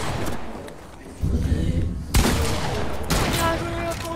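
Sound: gunshots in Fortnite video game

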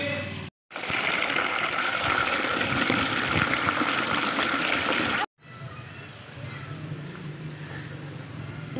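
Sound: stirring water to make sharbat

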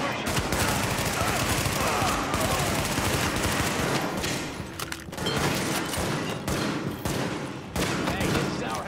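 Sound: burst gunfire, video game Tom Clancy's The Division

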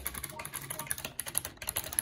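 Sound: typing on an old computer keyboard

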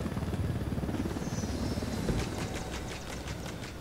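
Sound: military helicopter landing in a forest, from the video game Ghost Recon Wildlands

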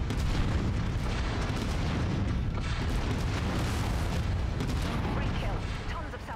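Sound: AC-20 autocannon firing in a mech video game

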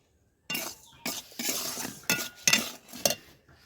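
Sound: roasting salt stirred in a pan for black salt

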